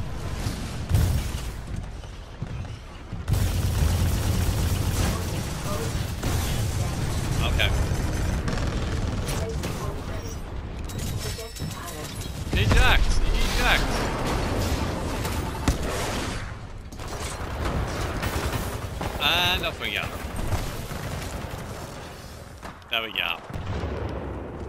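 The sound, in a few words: gunfire in the video game Titanfall 2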